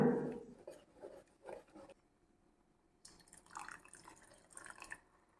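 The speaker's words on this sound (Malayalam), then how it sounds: "പാകത്തിനുള്ള വെള്ളം കൂടി തേങ്ങയിലേക്ക് ചേർത്ത് കൊടുക്കാം." Water pours into ground coconut in a few short splashes, then a longer, quieter pour follows after a pause, close and fairly soft.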